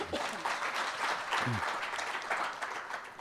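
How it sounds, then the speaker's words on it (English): Audience applause at a governance dialogue event, fairly faint but steady crowd clapping with brief voices mixed in. "A round of applause"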